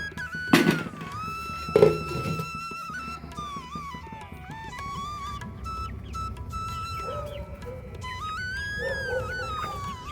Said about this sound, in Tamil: ஒரு தட்டை போட்டு மூடி வச்சுருவோம்.